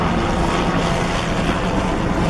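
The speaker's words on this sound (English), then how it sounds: "what's all these helicopters going on?" Aircraft rotors or engines drone steadily overhead near an aviation college, a continuous broadband rumble with no speech over it.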